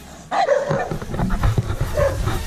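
A dog barks in repeated, excited bursts close by, reacting to another dog passing, with loud overlapping yips over a steady background.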